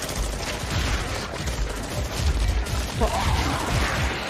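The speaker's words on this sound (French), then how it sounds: "La rafale, les gars." A rapid burst of gunfire in an anime fight scene, dense, loud crackling shots going on for several seconds with a heavy low rumble beneath.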